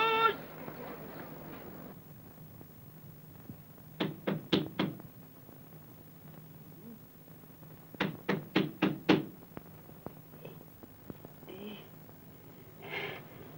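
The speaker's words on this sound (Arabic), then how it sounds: "قوم افتح الباب يا راجل بيخبط" Knocking on a door in a comedy sketch: two bursts of four or five quick raps, then a softer single knock, heard over a quiet room background with faint speech.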